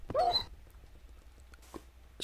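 A dog in a Minecraft-style game gives a single short, sharp yelp or bark near the start, followed by quiet and a few faint clicks, ending with a brief loud burst.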